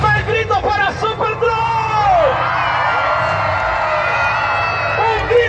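A large crowd at a monster truck show in Mexico cheers, whoops and yells in a loud, sustained roar, with an announcer's voice shouting over the din.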